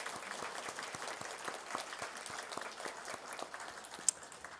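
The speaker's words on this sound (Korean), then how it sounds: "여러분 박수 한번 해주시기 바랍니다." A church congregation applauds in a steady, dense patter of many hands, fairly faint and distant, holding an even level until a single sharper clap near the end.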